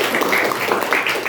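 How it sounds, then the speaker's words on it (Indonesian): Audience applause in a school Islamic study gathering, dense steady clapping filling the short moment with no talk over it. "Tepuk tangan dong."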